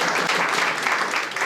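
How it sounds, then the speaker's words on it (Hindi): Brief, dense applause from a seminar audience for Sunny Bhai, loud and continuous throughout. "सनी भाई के लिए तालियां।"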